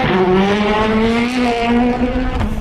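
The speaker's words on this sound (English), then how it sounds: "Listen to the skeetering as it goes through the chicane." A race car engine screams through a chicane with tyres skittering, a loud sustained high-revving tone that shifts pitch as the car threads the turns, close and continuous.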